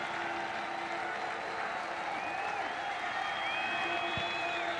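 Rutgers home crowd at a college football stadium, November 2005 game against South Florida, roaring and applauding in a dense, sustained wash of cheering with whistles rising above it, loud and continuous throughout.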